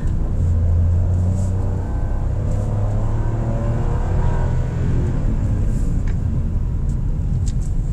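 A 2024 Toyota Raize E with a CVT drives steadily while its engine shifts on its own into third gear, giving a continuous close road and engine rumble with a slight dip in tone and no talking.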